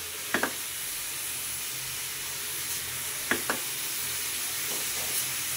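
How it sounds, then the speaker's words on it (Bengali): Carrot halwa with cardamom being stirred in a pan, a continuous soft sizzle and hiss with two pairs of sharp spoon knocks against the metal, no talking. "এখন আমি এটাকে সুন্দর করে নাড়াচাড়া করে নিব।"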